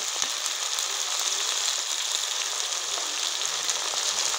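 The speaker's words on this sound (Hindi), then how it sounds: "लहसुन अदरक का पेस्ट डाल दिया, उसे अच्छी तरह से भूनेंगे।" Steady, crackling sizzle of garlic ginger paste frying in a hot pan, loud and continuous with small spits and pops throughout.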